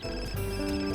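A phone rings in a life simulation video game, a short electronic ringtone with steady tonal chimes over soft game music, heard alone for about a second.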